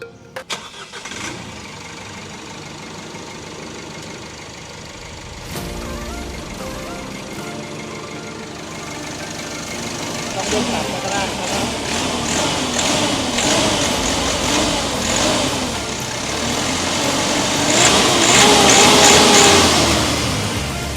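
A 1.9-litre van engine cranks and catches, then runs steadily before being revved higher, the roar building toward the end, heard close with no talk over it.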